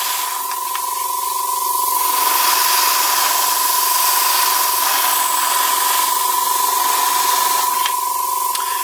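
Airbrush paint hissing steadily onto a model tank being given winter camouflage over hairspray chipping, with a thicker coat going on; a continuous close, even spray with a faint tonal whine running underneath.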